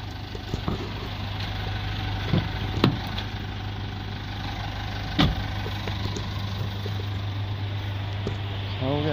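A Mitsubishi Challenger 4D56 2.5 litre turbo diesel engine idles with a steady low hum and rumble, a few clicks and knocks over it, while someone talks briefly in the background.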